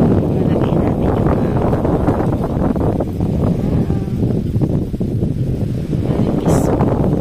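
Beach wind buffets the microphone in a dense, continuous low rumble with gusty fluctuations throughout, loud and close, with voices partly buried underneath.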